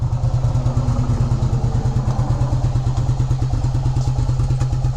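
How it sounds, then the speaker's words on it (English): 1992 Yamaha Virago 750 V-twin running on its stock exhaust, a loud, close, steady rumble with a rhythmic thumping pulse and no talk. "Really like the sound of the stock exhaust system. It's got a nice rumble to it."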